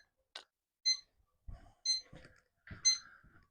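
A smoker thermometer's temperature alarm chirps in short, bright beeps spaced about a second apart on a drum smoker, with faint low knocks and handling sounds between them.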